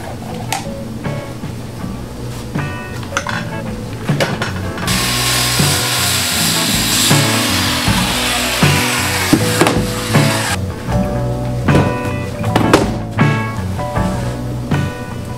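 A hand-held power saw cuts a wooden board to table length for a steampunk desk build, a loud continuous whine running several seconds, with tool clatter and handling before and after.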